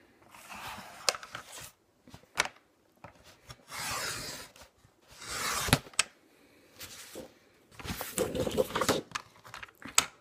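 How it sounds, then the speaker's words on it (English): Scrapbook paper run through a paper trimmer, heard as several quiet, close rasping slides of the blade, each lasting about a second, spaced apart and mixed with light taps and paper handling. "So you'll just line it up in your trimmer."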